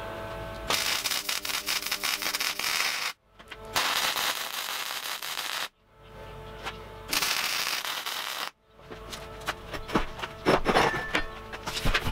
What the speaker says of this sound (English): I will weld the heck out of this